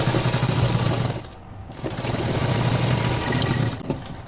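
A sewing machine without an interlock stitches around a part of a silk blouse, running as a steady close mechanical hum with a brief dip partway through.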